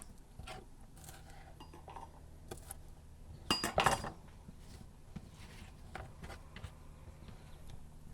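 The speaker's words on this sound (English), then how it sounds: "you just move these to the sheet pan" Cut peppers and onions are moved onto a sheet pan, making quiet scrapes and soft clinks of metal, with one louder clattering knock near the middle.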